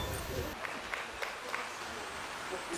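A small crowd at an award ceremony for children claps in light, scattered applause, fairly quiet and distant, with a murmur of voices underneath.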